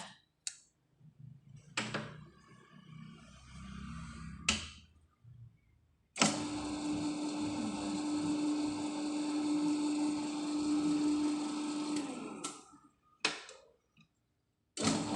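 An electric mixer whips meringue for cookies, starting and stopping several times with short bursts before running steadily for about six seconds, then halting again. The whirring motor is fairly close and carries a steady hum.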